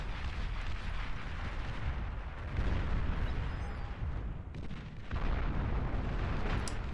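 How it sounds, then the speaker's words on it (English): Heavy artillery fire and explosions from geothermal plasma artillery in the real-time strategy game Beyond All Reason, a dense continuous rumble of booms that swells louder midway and again near the end, with no talk. "that geothermal plasma artillery is doing wonders up there"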